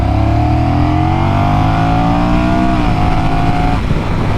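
A Honda Rebel 1100 DCT motorcycle accelerating hard in sport mode, its engine a loud, steady roar that climbs in pitch, drops briefly at a shift, then rises again, heard up close with no talking.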